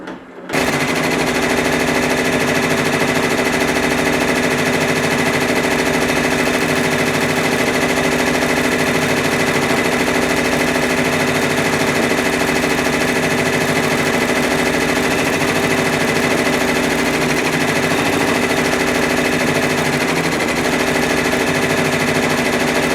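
An embroidery machine stitches a design onto a towel, giving a steady, loud, rapid mechanical chatter that runs unbroken for over twenty seconds.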